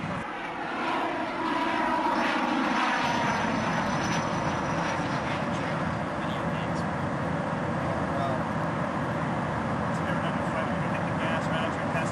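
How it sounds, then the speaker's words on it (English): A jet aircraft flies low over a farm, its engine a loud continuous roar that swells and holds throughout. "We're gonna actually buzz right straight over the farm."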